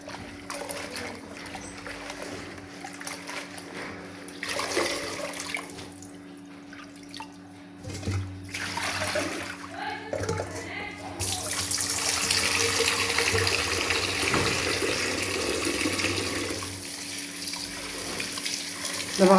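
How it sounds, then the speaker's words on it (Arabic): Coriander and parsley are washed under a running kitchen tap, with water splashing and dripping over the herbs. The flow swells into a louder, continuous gush during the second half. "غادي نغسلو جوج مرات ولا ثلاثه على حساب، حتى يتحيد منه ما يبقاش فيه لا تراب لا والو"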